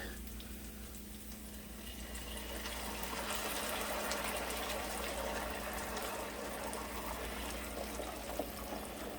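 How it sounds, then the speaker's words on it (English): Red wine being poured into a pot of braised short ribs, a steady liquid gush and fill that swells midway and continues over a constant low kitchen hum. "So now we add 2 cups of red wine."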